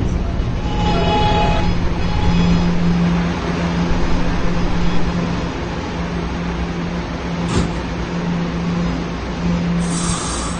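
A New York subway B train rumbles loudly along the tracks with a steady low hum, occasional squeals and clanks, and a brief electronic tone near the end.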